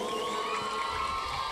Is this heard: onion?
no